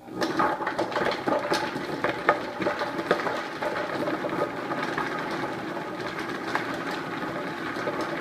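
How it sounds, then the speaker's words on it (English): A food processor or Vitamix blender chopping a carrot for muffins, a continuous close whirring motor with rattling, clattering chunks that gradually settles into a smoother hum. "take your carrot, place it in your food processor or your Vitamix, and once again, turn it on"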